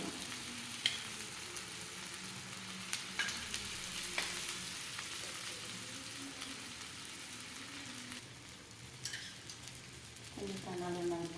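An onion podi uttapam topped with idli podi sizzles steadily on a hot griddle as oil is poured over it, giving a continuous crackling fry with small pops and scrapes.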